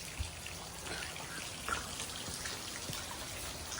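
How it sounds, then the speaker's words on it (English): Steady rain falls outdoors on a rainy day near a dog house, a continuous broadband patter with scattered individual drops and no talking. "just as predicted by the weatherman, Bella, the rain did actually come."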